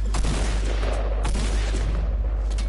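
Gunfire in the video game Fortnite, a few sharp shots over a constant low hum, fairly loud and close.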